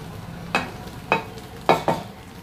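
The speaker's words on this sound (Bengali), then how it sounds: "এখন চালটা ভাতটা উল্টো করে দেখতে হবে।" Cooked coconut basanti pulao rice being turned over in a pot, giving three or four short scraping, rustling stirs spaced about half a second apart, fairly close and unaccompanied by talk.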